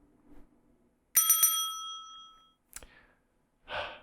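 A bell rung to open a lightning round: a quick burst of bright rings that decay into a lingering ringing tone, followed by a short clank and a breathy sigh.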